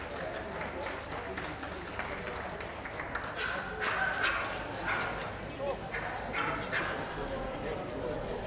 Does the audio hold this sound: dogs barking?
yes